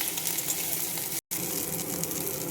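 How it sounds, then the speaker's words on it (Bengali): Thankuni (Indian pennywort) leaves fry lightly in hot oil: close, continuous sizzling, a bright steady hiss broken by a brief dropout midway. "এবার পাতাগুলোকে আমি হালকা ভেজে নেব।"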